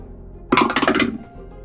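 Metal dice rattle and clink across a tabletop during a tabletop role-playing game, one short burst of bright close clattering lasting under a second.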